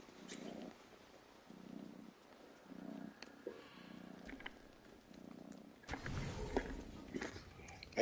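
A pet cat purrs close by in slow, rhythmic low pulses, each rumble lasting about half a second, before louder rustling and shuffling noise takes over.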